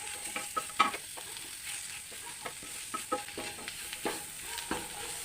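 Tomatoes and masala sautéing in a pan make a soft sizzle with repeated scraping stirs of a spoon, fairly quiet and close.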